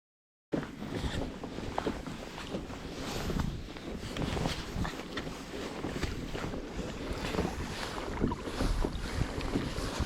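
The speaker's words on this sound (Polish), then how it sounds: "Jest dzisiaj troszkę wiatru." Steady wind gusting across a forest lake in November, heard from a fishing kayak drifting on the water, a continuous broad rushing and buffeting close to the microphone with faint lapping underneath and no talk.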